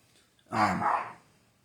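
A small puppy lets out one loud, short burst of barking close by, lasting about half a second before it fades into quiet room tone.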